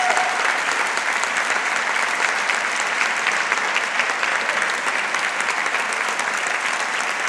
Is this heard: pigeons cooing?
no